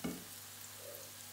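Garlic frying in a pan for seafood pasta, a steady close sizzle that flares briefly at the start and then holds an even crackle with no talking.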